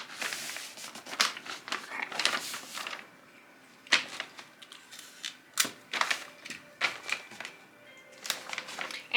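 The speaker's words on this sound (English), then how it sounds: "I'm just going to wrap it like this" A Christmas present is wrapped in paper with Scotch Magic tape, giving close, intermittent crinkling, rustling and folding sounds in irregular bursts with quiet gaps.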